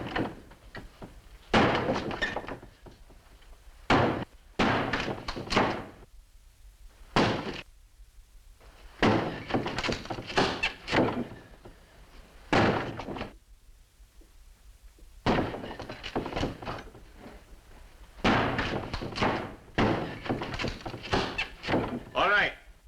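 A wooden door is chopped down with heavy blows: loud, irregular bursts of thuds and splintering impacts repeat over the whole stretch, with voices speaking in the gaps.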